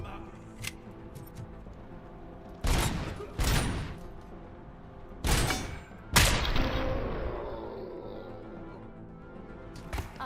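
A grenade blast in the Robocop: Rogue City video game lands among several sharp gunfire bursts. The last, loudest explosion trails off in a long, rumbling decay over low background ambience.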